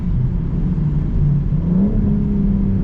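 A 2024 BMW M440i with the M Performance exhaust revs in sport mode, its mid-pitched engine note rising and swelling close and loud with a gargling edge, alone without talk.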